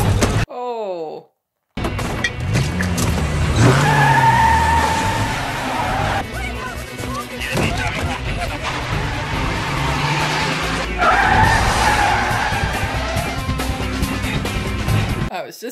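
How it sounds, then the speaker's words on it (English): A taxi skids and screeches through a frantic car chase in The Bourne Supremacy, with roaring engines, squealing tyres and crashing impacts blended with a tense film score, loud and continuous after a brief silence. "I was just starting to wonder when the prerequisite car chase was gonna happen."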